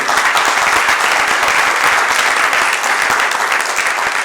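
Dense, steady applause from an audience at an architecture colloquium honoring Félix Candela in Comitán, sustained and even throughout without any break.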